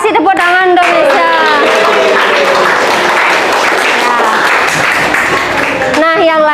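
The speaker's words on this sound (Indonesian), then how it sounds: "Kasih tepuk tangan untuk Mesya." A classroom of pupils applauds a student, a loud, dense round of clapping and cheering that swells over a teacher's speech and fades as she resumes talking.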